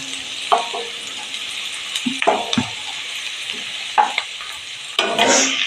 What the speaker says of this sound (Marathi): हा आपला कांदा बऱ्यापैकी परतून झालेला आहे